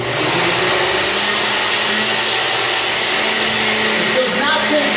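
A blender whirs milk and frozen ingredients into a thick smoothie for a bowl, running loud and steady at close range for the whole stretch, its pitch shifting slightly near the end.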